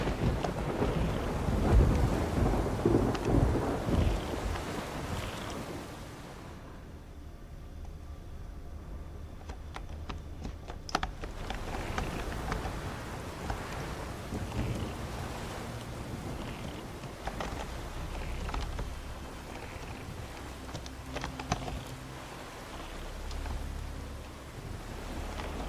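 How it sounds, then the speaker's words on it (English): Heavy rain roars steadily in Witcher 3, easing briefly partway through before a sharp thunder crack, then returning to a dense downpour with low rumbling throughout. "Raining fucking buckets."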